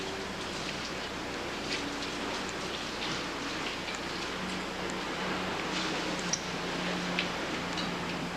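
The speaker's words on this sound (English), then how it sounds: "That's called rain." Steady rain falling outdoors, a constant soft hiss with faint scattered drop ticks throughout, moderate in level with no voices.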